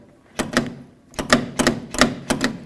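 Outer handle of a locked GMC Sierra 1500 truck door being pulled, giving a sharp mechanical clack at about 0.4 s, then four more evenly spaced latch clicks, close and distinct with no talk.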